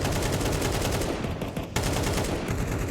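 Counter-Strike 2 gunfire on the Inferno map in a professional match, with dense, rapid automatic rifle fire rattling continuously and loudly, broken by a brief lull, then resuming.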